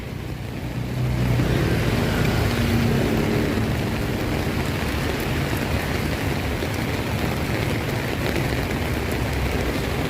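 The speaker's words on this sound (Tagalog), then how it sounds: "Malakas ang ulan." Heavy rain pours in a dense, constant hiss that swells early and holds steady, with a low rumble underneath and no voices.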